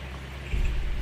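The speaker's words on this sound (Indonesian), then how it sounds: "hujan lur" Rain falls outdoors in a steady wash of hiss, joined halfway through by a louder low rumble as the downpour or wind swells, with no voices.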